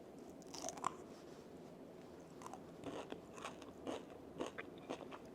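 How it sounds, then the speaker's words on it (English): Crunchy bites into a thick Dubai chocolate bar with a crisp filling, several sharp close crunches and chewing crackles scattered over a few seconds, quiet and up close with no talking. "Y'all hear that crunch?"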